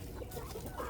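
Chickens cluck close by in a pen, a quick run of short clucks from several birds over a one-second stretch.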